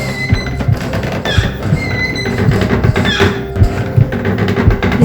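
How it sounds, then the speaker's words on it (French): Doors creaking and squeaking in a haunted house, repeated groaning hinge squeals with thuds that swell louder over several seconds, loud and close. "Les portes se sont mises à grincer de plus en plus fort."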